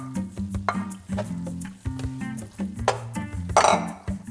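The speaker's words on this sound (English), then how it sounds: "I'm now going to turn off the heat. We'll add in our fried eggplant." Fried eggplant goes into a pan of caponata off the heat, a spoon clinking and scraping against the pan in quick, uneven strokes at close range, with a louder clatter near the end.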